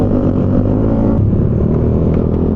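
A Yamaha Aerox 215cc motor scooter engine revs hard and close during break-in, a loud, steady throaty drone with rumbling low tones that holds for the whole stretch.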